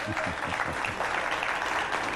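Studio audience at a 1988 Miami pledge night telethon breaking into steady, dense applause, with a low voice speaking over the clapping.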